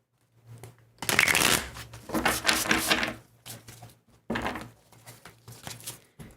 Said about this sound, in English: See if we can get the shuffling going.